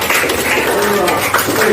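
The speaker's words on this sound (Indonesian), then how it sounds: "Kita berikan tepuk tangan dulu untuk kelompok." Students in a classroom applaud a presenting group: a short, continuous wash of many hands clapping at close range, fairly loud, with a few voices mixed in.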